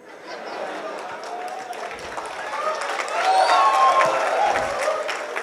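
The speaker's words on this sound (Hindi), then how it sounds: "सर देखिए अपने आप ताली बज रही है इस बात पर" An audience applauds at a poetry event for World No Tobacco Day, with sustained clapping that swells toward the middle, mixed with crowd murmur.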